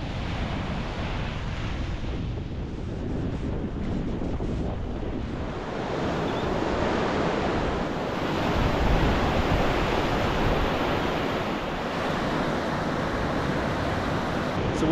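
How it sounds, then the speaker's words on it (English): Ocean surf rolls in continuously at Dutch Harbor, Alaska, with a light breeze buffeting the microphone, a steady broadband wash with no pauses and no voices. "The sound of the ocean, the feel of the light breeze"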